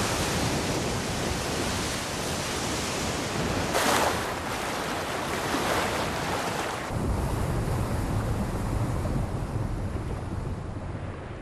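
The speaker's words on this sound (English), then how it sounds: "In the western Pacific, a tropical cyclone is blowing up." Roaring wind and crashing ocean waves from a tropical cyclone over the western Pacific form a loud, broad rush, with a surge of surf near the middle that eases to a lower, steadier roar.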